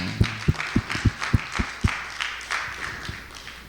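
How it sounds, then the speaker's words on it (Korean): Congregation members at a church revival service clap for a fellow member, a run of sharp, evenly spaced claps that thins out and fades into softer scattered ones. "이우림 성도도 박수 한번 주세요"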